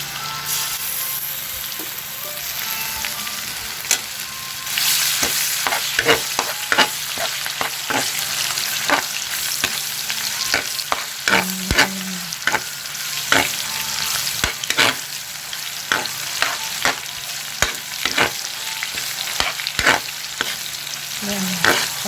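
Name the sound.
frying tomato paste in oil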